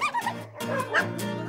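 Dogs at an animal shelter bark and yip in short bursts, a few close barks with whimpery tones over a steady background hum. The bursts are moderately loud and irregular.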